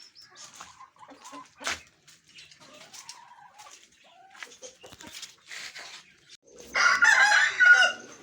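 Aseel hens cluck and call in short bursts, then an Aseel rooster crows loudly near the end, with a dog-like bark in the farmyard.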